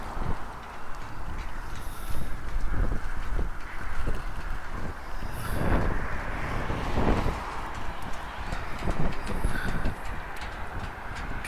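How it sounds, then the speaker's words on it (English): Wind gusting through a park on a cold January day, roaring and buffeting against the microphone in uneven surges, with occasional faint thumps beneath. "It's a cold, windy day on a Friday in January."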